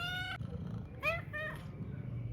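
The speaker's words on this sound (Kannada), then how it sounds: "ನನ್ನ ಬೆಕ್ಕು ಇವಾಗ ಇದ್ದಿದ್ದೆ ನನ್ನ ಜೊತೆ" A pet cat meows indoors in two separate calls, a short steady one and then a longer rising-and-falling one, over a low background rumble.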